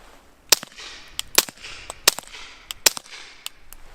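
Subsonic gunshots fired through a Liberty Mystic steel suppressor, about seven sharp loud cracks at uneven intervals of roughly half a second to a second, each with a brief tail.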